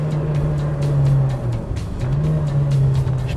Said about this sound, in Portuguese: Não temos um mega escape, mas temos muito barulho do motor de indução cá dentro do carro.